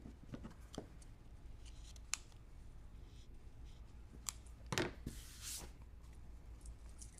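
Scissors trim the ribbon tail ends of a handmade bow, giving a few sharp, close snips at irregular intervals with quiet handling rustle between cuts.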